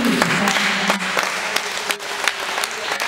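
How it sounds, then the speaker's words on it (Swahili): A church congregation claps and applauds during a Swahili worship service, a dense, steady wash of many hands that fills the room without a break. "Pigie tu Yesu makofi na vigelegele shangwe"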